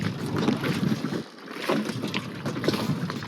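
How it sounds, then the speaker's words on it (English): A small sailboat moves across open water in a breeze, with wind buffeting the microphone and water rushing along the hull, steady and close with a brief lull midway. "Right now I'm sailing, and that's all that matters."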